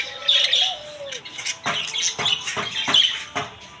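At a rural bird and pigeon market in Pabna, caged budgerigars squawk and chirp loudly and close, with a dense chatter of overlapping shrill calls and sharp bursts.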